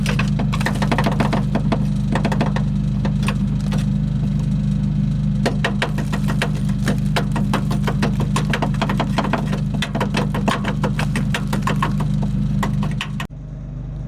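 A generator engine runs at a steady, close, humming idle with a continuous rapid ticking. Its drone cuts off abruptly near the end.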